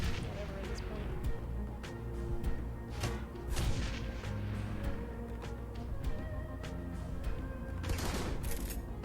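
Gunfire from the video game Shadowrun: Hong Kong during a bar fight, with repeated sharp shots and bursts over a busy, dense game soundscape, mixed under steady speech throughout.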